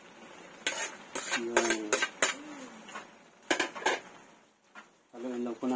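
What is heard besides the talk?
stirring pancit noodles with vegetables in a pan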